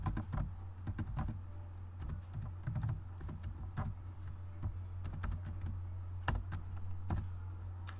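Rapid keyboard typing while entering Python code on a computer, steady close clicks of varied rhythm over a constant low hum, no voices.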